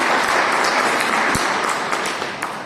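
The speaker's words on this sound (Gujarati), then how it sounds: "તો એમના માટે એક જબરજસ્ત તાળી થઈ જાય." An audience at a business plan meeting gives a hearty round of applause for first-time guests, dense steady clapping that slowly tapers off, with no talking over it.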